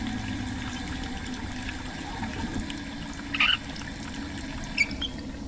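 Tap water runs steadily into a basin during hand washing in the horror game Lust From Beyond, a continuous soft rushing stream with a couple of brief brighter splashes or chirps partway through.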